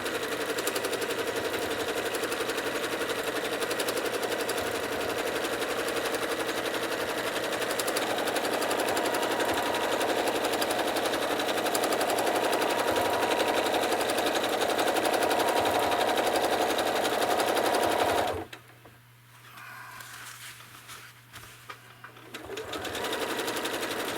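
A sewing machine runs steadily for free-motion quilting of swirls in a background fill, its rapid needle hum continuous and loud for about 18 seconds before stopping and briefly restarting more softly.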